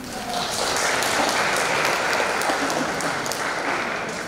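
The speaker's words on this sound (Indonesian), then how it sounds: "tepuk tangan dong buat Pak Immanuel" A church congregation claps together in a sustained, even wash of applause, a thick uninterrupted crackle of many hands that holds at a steady level for several seconds.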